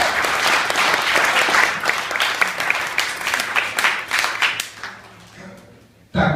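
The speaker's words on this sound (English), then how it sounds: "I'd just like everyone to just give a round of applause" Wedding guests applaud loudly in a reception venue, dense clapping that swells and then thins out, with a few voices mixed in, before stopping near the end.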